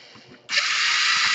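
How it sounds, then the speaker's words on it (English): A small screw is backed out of the cooling fan in an Asus G53 laptop, giving a faint ticking followed by a sudden, steady high whir that continues close by with no talking. "You want to disconnect 1, 2, 3, 4 screws right here."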